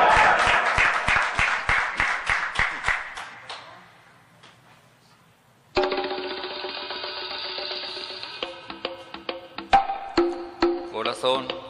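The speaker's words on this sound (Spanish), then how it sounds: "¡Fuerte el aplauso!" Audience applause for a guest on a variety TV show: rhythmic clapping for a few seconds that fades out, then a louder burst of applause with cheering that carries on to the end.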